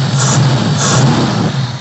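A green Toyota Corona 2000 with a carbureted petrol engine idles smoothly and steadily, a loud, even mechanical hum throughout with no voices.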